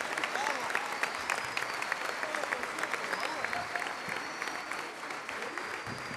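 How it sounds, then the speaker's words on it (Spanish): Wedding guests gathered for a church ceremony give a strong, continuous round of applause, a dense crowd clapping steadily at an even level throughout, with a faint high tone running beneath. "Fuerte el aplauso de alabanza y de gratitud al Señor."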